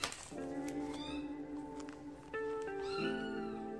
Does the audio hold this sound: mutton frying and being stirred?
no